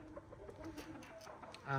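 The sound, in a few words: chicken clucking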